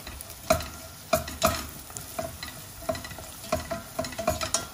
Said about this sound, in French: On caramélise un petit peu nos oignons avec une grande cuillère